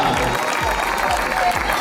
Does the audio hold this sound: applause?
yes